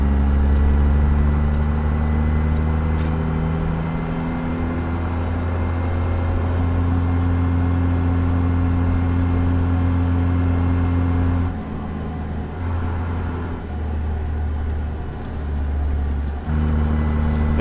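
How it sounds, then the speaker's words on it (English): A heavy truck cruises in American Truck Simulator, with a steady low engine drone, a tire hum and rising wind noise, a whining tone early on and brief dips in the rumble, with no talk. "You can hear the tire sound comes in about 45. It's a very nice tire sound."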